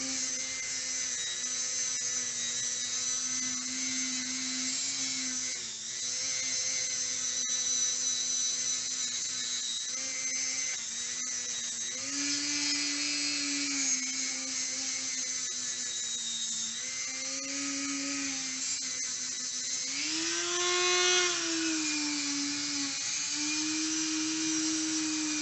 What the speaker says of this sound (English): clean that up a little bit with the flap wheel.